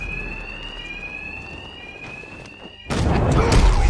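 A ringing alarm in Batman: Arkham Knight sounds steadily through the clip, then a louder burst of noise cuts in near the end.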